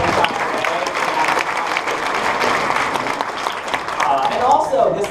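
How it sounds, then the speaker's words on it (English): An audience at a Saturday-morning keynote at Big Data Day LA 2015 breaks into sustained clapping for about five seconds, a dense, loud wash of many hands that swells slightly toward the end. "So can I get a round of applause for all of you for spending time today?"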